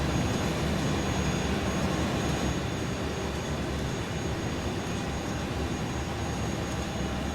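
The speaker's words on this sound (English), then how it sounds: "that entire airplane is rather loud now" The iniBuilds A300 airliner in a flight simulator game drones with a loud, steady broadband roar of engine and cabin noise, continuous and unchanging throughout with no talk.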